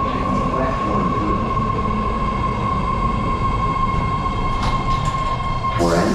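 BART commuter train pulling into a station platform, a loud continuous rumble and rattle of rail cars with a steady high whine, a station announcement voice faintly beneath, and a brief squeal near the end.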